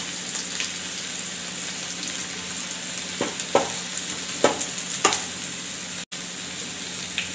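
Tempering spices hit hot oil for chole puri, producing a continuous sizzle broken by several sharp pops and scrapes, then a momentary dropout.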